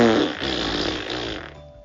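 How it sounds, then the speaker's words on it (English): Gassy farting sound, loud and sustained with a rumbling, buzzy texture that trails off after about a second and a half, heard alone without talk. "Please ignore my gassy farts."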